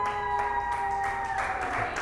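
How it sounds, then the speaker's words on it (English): A caucus crowd claps for Nikki Haley supporters as they walk in, a steady spread of applause heard fairly distantly under a hum of room noise, with no pause across the short stretch. "They hear that name and they have to clap again."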